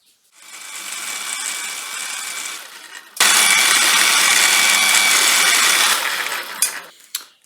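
Small holes being drilled into a metal part of a ball turning jig, giving a steady, close machine whir that starts, then jumps louder after about three seconds and runs on before stopping, with no talking.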